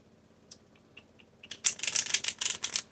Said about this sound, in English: All right, one last shuffle.